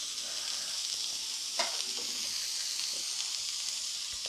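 Steady sizzling of food frying in a pan while it is stirred, a constant hiss with occasional soft scrapes and clicks, close and moderately quiet.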